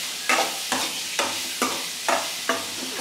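Guava pieces fry in a pan for a home-cooked poriyal, and a spoon scrapes through them in six evenly spaced strokes over a soft, continuous sizzle.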